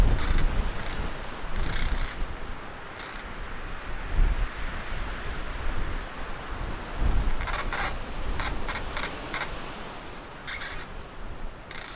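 Steady wind rushes and gusts across the microphone at a cliff-edge overlook at Chimney Rocks, Michaux State Forest, Pennsylvania, with a broad roar that swells and eases, plus a few sharp clicks scattered through.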